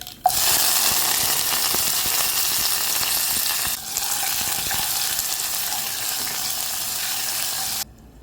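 Mustard seeds, curry leaves, dried and green chillies and garlic sizzle loudly and steadily in hot sunflower oil for a chutney tempering, dipping briefly midway before cutting off near the end.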